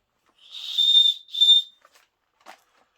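Two shrill, piercing blasts from a small survival-kit whistle in quick succession, close and loud, followed by a couple of faint clicks.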